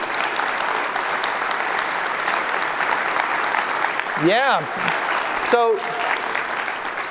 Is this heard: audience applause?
yes